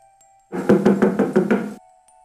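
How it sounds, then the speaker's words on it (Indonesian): Five quick, evenly spaced knocks rap on an old, decayed wooden door, close and fairly loud, with silence before and after. "Ia mengetuk pintu kayu yang lapuk itu."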